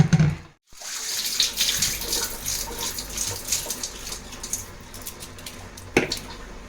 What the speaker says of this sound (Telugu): ఇప్పుడు ఈ వాటర్ని మొత్తం డ్రైన్ చేసేసుకోవాలి.